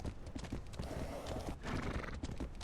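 A wild horse in the video game Legend of Khiimori, with steady clip-clop hoofbeats and a whinny over a busy background, close and clear.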